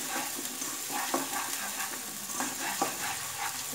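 Green chili and ground ginger frying in a pan, a quiet constant sizzle with soft rhythmic scraping from stirring, close and without talk.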